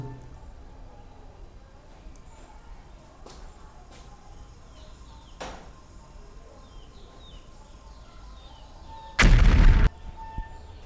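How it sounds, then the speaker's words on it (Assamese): Near the end, a single loud, sharp burst from a homemade smoke bubble explosion erupts and lasts under a second, breaking a faint, quiet background with a few soft ticks. "চাইছেনে কেনেকুৱা বিস্ফোৰণ হৈ গৈছে"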